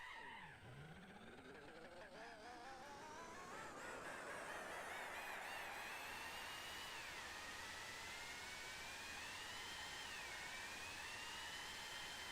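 Gillet Vertigo race car in Gran Turismo 4 screaming at extreme revs, a loud sustained high-pitched engine whine with rising and shifting tones that holds steady throughout without pause.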